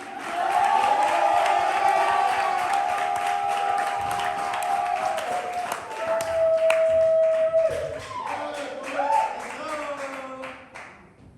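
A crowd at an Atlanta spring poetry slam claps and cheers steadily for the final poet of the second round, dense applause with a few whoops and a sustained tone running through it before it tapers off.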